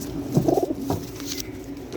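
Pigeons coo nearby, a couple of short throaty burbling calls over a soft background hum.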